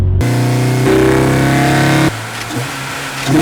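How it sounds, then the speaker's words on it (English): An Acura RSX engine revs hard and climbs in pitch, then its tone shifts sharply into a harsher, higher-revving note as VTEC engages, before easing off. "You can pick up that VTEC engagement."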